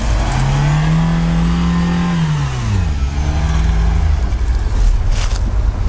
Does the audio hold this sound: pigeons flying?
no